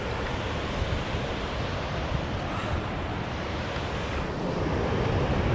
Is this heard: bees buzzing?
no